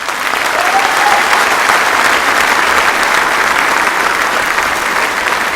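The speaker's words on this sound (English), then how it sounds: "please give them all a round of applause." An audience applauds at the opening ceremony of the WorldSkills Australia national competition, a loud, sustained roar of many hands clapping that stays level and continuous throughout, with no speech over it.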